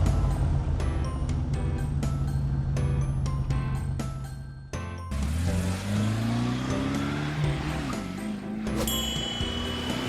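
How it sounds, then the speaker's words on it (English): A blue toy police car drives out of a garage, its whirring, engine-like motor rising and gliding in pitch under continuous background music. "Blue police car leaves the garage."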